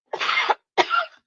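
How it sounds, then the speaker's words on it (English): Two sharp coughs in quick succession, close and fairly loud, with a short pause between them. "I had to cough"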